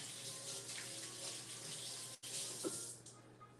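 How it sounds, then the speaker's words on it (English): Tap water runs steadily into a sink while vegetables are rinsed, a soft continuous splashing. A brief break comes midway before the flow resumes. "Rinse this off. Always rinse off the vegetables."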